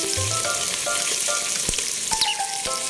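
Garlic, onion and ginger sizzle steadily in a frying pan, a dense continuous hiss with occasional pops and clinks as they cook, with faint tonal sounds in the background and no voices.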